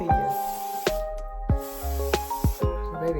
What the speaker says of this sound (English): Freeze spray is the truth, the melting truth, honey